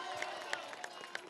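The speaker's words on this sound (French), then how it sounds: "Donc il mérite des applaudissements." An audience at a French-language political event applauds, a moderate crowd clapping with a few sharper claps standing out, heard somewhat distantly under the room's ambience.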